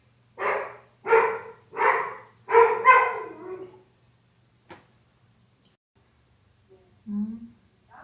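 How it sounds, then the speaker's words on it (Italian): Several dogs bark in a quick series of five loud, close barks over about three seconds, followed by silence and then a single short yelp near the end. "Ma eri tu che abbaiavi"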